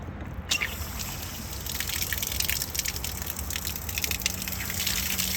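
Water from a broken garden hose fitting sprays and gushes continuously after being turned on, a loud, close, steady hissing rush that starts abruptly and keeps on without pause.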